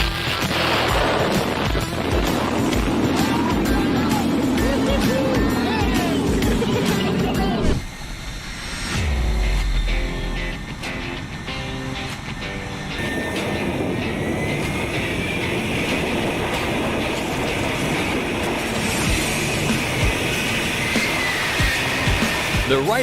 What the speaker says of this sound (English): The Blue Angels have some of the swiftest takeoffs in the aviation industry.